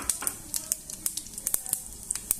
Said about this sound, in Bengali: এখন আমি ফোড়ন দিয়ে দেব। ফোড়নের জন্য আমি জিরে নিলাম